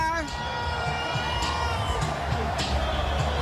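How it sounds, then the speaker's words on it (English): Dense crowd cheering and shouting along Battery Place at the New York Knicks championship parade, a steady loud roar with whoops and children's shouts rising throughout. "And listen to this crowd"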